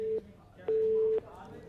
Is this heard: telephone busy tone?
yes